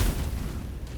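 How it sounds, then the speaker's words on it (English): Fireworks bursting in Baldur's Gate 3, a dense run of deep booms and rumbling pops layered over one another, loud and close for the whole second with no speech. "time to enjoy some fireworks."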